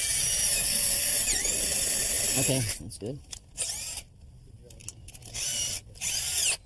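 A high-pitched power drill whines steadily while pre-drilling through door shims, then stops and restarts in short bursts; a person speaks briefly during a pause.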